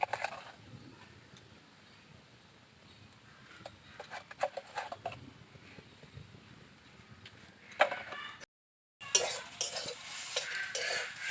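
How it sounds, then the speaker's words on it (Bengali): Mankachu (elephant foot yam) being stirred and fried in a pan, with soft scraping and spoon clinks over a low sizzle, busier bursts near the end after a brief gap. "এটা এবার একটু এভাবে নেড়ে চেড়ে ভালো করে একটু ভাজা ভাজা করে নিতে হবে।"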